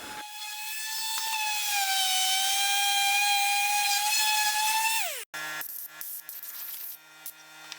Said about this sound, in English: So I'm going to sand these down using 220 grit.